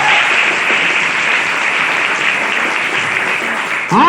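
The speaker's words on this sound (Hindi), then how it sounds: "तो मैं चाहता हूं इसके लिए जोरदार तालियां" Loud, dense applause from an audience at a Vestige business meeting, sustained steadily and alone before cutting off abruptly at the end.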